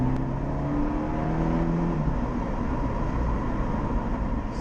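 An Abarth 124 Spider's engine revs up under hard acceleration after a roundabout, a steady rising drone heard from inside the car with no talking.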